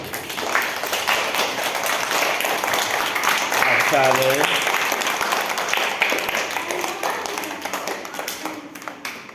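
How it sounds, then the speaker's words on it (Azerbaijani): Children clapping together at a seventh birthday party, a dense steady patter of hands running throughout the clip, with an adult voice speaking over it and brief children's voices. "Hamı əl çalır"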